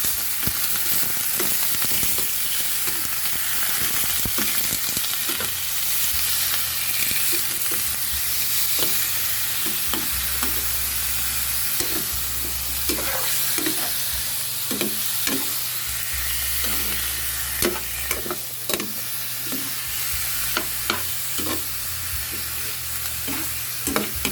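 Chicken meat for adobo is stirred as it fries in a pan, a constant close sizzle broken by repeated scraping and clacking strokes of the utensil, with no voices.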